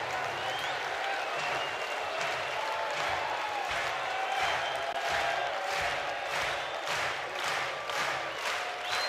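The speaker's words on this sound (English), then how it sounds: "Crowd trying to help Ruger Riojas." A college baseball crowd at a Texas vs Oregon game cheers and claps in steady rhythmic applause, a broad, fairly distant wash of noise with a commentator speaking over it.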